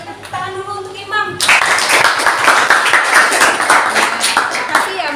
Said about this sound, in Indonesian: Tepuk tangan dulu untuk Imam.